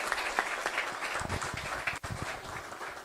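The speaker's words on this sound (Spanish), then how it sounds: "Otra vez les pido un aplauso para la compañera Mirtia" An audience at a forum gives moderate, steady applause for a speaker, a continuous wash of clapping with a few sharper claps and a brief dip, heard without talk.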